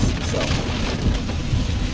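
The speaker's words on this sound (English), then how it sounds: "we have a torrential downpour, so let's continue on." Heavy rain roars steadily with deep rumbling underneath, a dense continuous downpour with no pauses.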